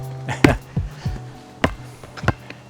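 Repeated bouncing thuds, about six or seven irregular knocks over a few seconds at moderate loudness, with faint background noise and no clear talking.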